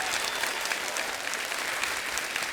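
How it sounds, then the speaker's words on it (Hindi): A studio audience claps for guests Brett Lee and Chris Gayle on a comedy stage, a dense, steady wash of applause that stays loud and even throughout. "जोरदार तालियां हो जाए हमारे मेहमानों के लिए।"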